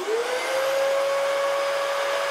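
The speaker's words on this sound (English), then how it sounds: "I went and turned the vacuum cleaner on" A vacuum cleaner powered from a MidNite Solar PowerFlo 16 wall-mounted battery starts up, its motor whine rising quickly and then holding a steady, fairly quiet hum.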